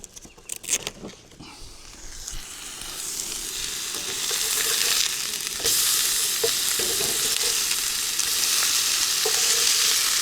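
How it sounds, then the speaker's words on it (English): Food sizzles steadily in a hot pan, a bright crackling hiss that grows louder after a few seconds, with occasional scrapes and pops and no talking. "Listen to that sizzle."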